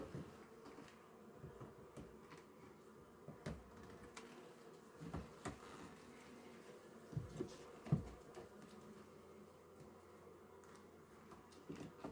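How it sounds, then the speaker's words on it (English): Soft, steady buzzing of many calm honey bees flying and crawling on the outside of an open hive, faint and continuous, with a few low knocks and bumps now and then. "Quite a bit of bees flying or crawling on the outside of here."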